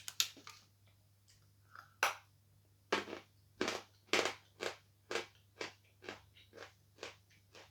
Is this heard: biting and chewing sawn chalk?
yes